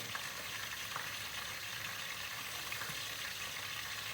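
Bişi dough fries in oil in a pan, giving a steady, close sizzling hiss with faint crackles throughout and no voices.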